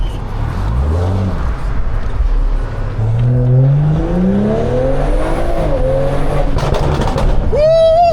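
A BMW with a downpipe exhaust revving hard inside a performance shop, its engine note climbing through rising sweeps, loud and close, with a sharp high whine and excited voices near the end.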